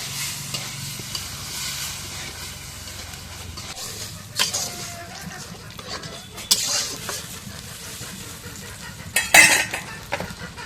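Lentils (kalai) being stirred and fried with spices in a pan, a steady sizzle with intermittent scraping clinks of a utensil against the pan, some louder strokes toward the end.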